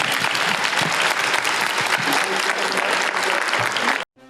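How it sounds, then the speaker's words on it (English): Steady audience applause for the Grimm panel with David Giuntoli and Bitsie Tulloch at the Terrificon 2025 fan convention, dense and loud for about four seconds before cutting off abruptly to silence. "Give them a big round of applause, please."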